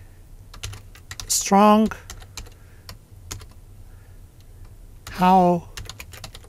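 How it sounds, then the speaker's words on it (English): Typing on a computer keyboard: rapid, close clicks of keys run steadily while someone speaks over them. "Now I'm typing completely HTML."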